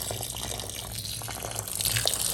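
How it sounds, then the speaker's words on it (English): Water slowly poured by hand onto aquarium soil indoors, a steady close trickle and splash of liquid running continuously throughout with no talking. "I'm gonna go ahead and slowly add this water."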